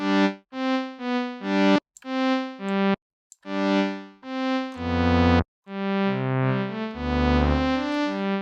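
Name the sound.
synthesizer reverse effect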